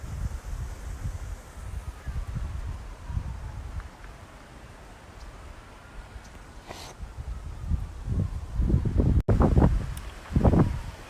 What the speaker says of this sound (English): it's really windy up here and I'm freezing.